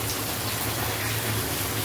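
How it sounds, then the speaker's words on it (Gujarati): Heavy rain pours down in Unjha, a dense, steady roaring hiss with no break or voices, loud and close throughout. "તો કેટલા કલાક વરસાદ પડે ખાલી તો જો"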